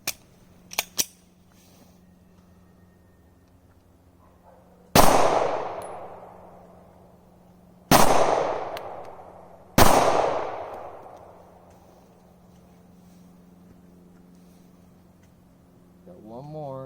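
A Polymer 80 G17 pistol fires three loud, sharp shots a few seconds apart, each leaving a ringing tail. A couple of faint clicks come before the first shot.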